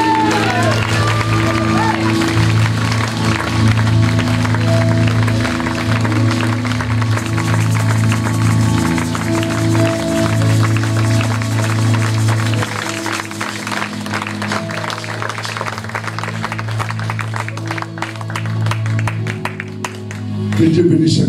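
A church congregation at a seminar on the supernatural in divine service calls out together and applauds, forming a loud sustained crowd roar of voices and clapping that carries on throughout with little letup.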